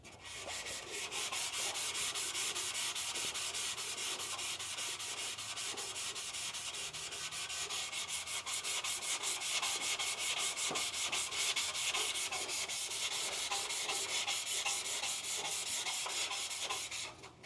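An aluminum C10 grill is sanded by hand with 600-grit paper on a soft-faced block, a continuous rapid scratchy rubbing in quick back-and-forth strokes, close and steady for the full length.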